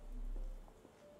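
Rain falls in the Sherlock Holmes: The Awakened video game as a faint, steady hiss with a low, even background rumble.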